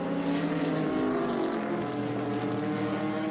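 A Formula 4 race car drives at Virginia International Raceway (VIR), its engine a loud, sustained high-revving drone with shifting pitch, heard up close and alone.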